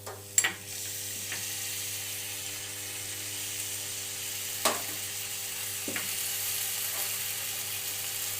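Green chilli and ginger paste frying in a pan for a koi fish recipe with gathi kochu and bori. A steady sizzle runs throughout, broken by a few sharp clatters and spoon taps early and midway.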